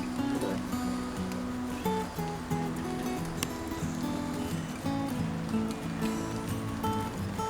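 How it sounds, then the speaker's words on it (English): Steady rain patters down on surfaces nearby, a dense continuous hiss with scattered drips, with faint tonal sounds mixed in beneath it. "Hear that rain coming down."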